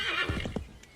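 A horse in the video game Assassin's Creed 3 whinnies, a high bright neigh up front followed by a few scattered hoof thuds, fairly quiet overall.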